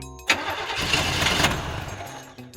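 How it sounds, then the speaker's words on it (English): A car engine cranks for about two seconds without catching, a loud, close, churning starter sound that then dies away. "But the engine wouldn't start."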